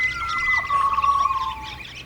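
Birds singing in trees outdoors, several thin whistled tones and chirps overlapping as if in competition, clear but moderately distant over faint background rumble.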